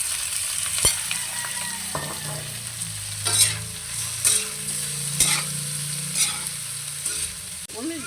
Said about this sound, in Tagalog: So, nilalagay na natin yung ating hipon.